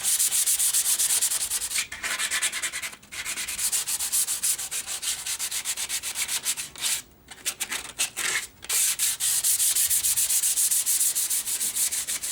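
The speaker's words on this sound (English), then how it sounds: "So I'm just going to start sanding by hand now." A guitar body is sanded by hand with 120-grit paper wrapped on a soft sponge, giving continuous close, loud rasping strokes with a few brief pauses.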